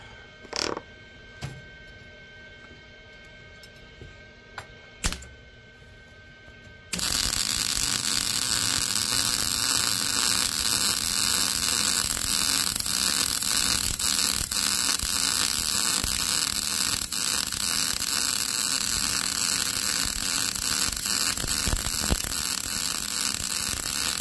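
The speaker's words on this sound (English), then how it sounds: "First time welding with the new welder." A new welder crackles and buzzes continuously while welding on a DIY Ford tie down point, a loud steady electric hiss that starts abruptly after a few quiet knocks and clicks.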